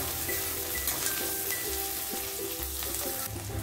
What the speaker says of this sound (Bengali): দিয়ে একই সঙ্গে আমি সবগুলো কষিয়ে নেবো ভালো করে।